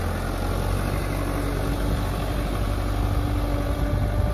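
A tractor stuck in a farm field idles with a steady, low, rumbling engine drone that holds close and even throughout, with no voices over it.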